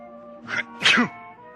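A man with a cold sneezes once, a short sharp intake followed by a burst, close and fairly loud with nothing else around it.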